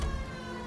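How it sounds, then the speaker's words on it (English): A police car siren from the video game L.A. Noire, a brief steady wail sounding alone with no talk. "It's okay, the siren's on."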